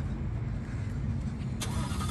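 Car engine on a cold start, close up: a loud, rumbling idle holds steady and then gives a sharp burst near the end.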